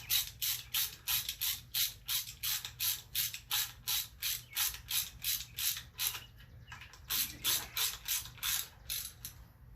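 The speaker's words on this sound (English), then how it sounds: "sit there and watch all these bolts being turned in" Hand ratchet turning 10mm bolts into a timing chain housing on a Quad 4 engine, a rapid rhythmic clicking repeated in even strokes with a brief pause, close and alone.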